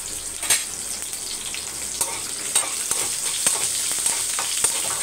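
Onions sautéing in hot oil for radish sambar, a bright continuous sizzle close by with occasional spoon scrapes and taps in the pan, no voices.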